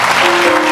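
A church congregation claps during a sermon in a brief, loud burst of applause with a faint sustained tone underneath.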